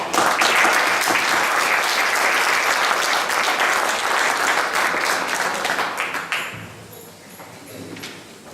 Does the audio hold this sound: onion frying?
no